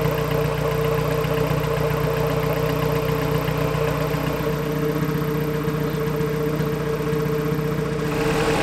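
An LS engine with a VTEC turbo kit and open header idles steadily at operating temperature after its first start, a loud, even, continuous rumble with no talk.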